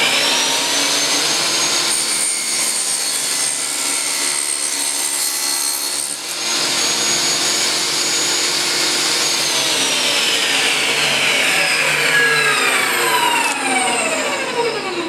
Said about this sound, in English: Go ahead and lock my table saw in place